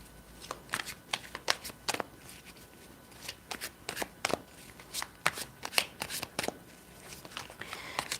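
A deck of tarot cards shuffled by hand in repeated riffling bursts, close and crisp, with short pauses between shuffles and no speech.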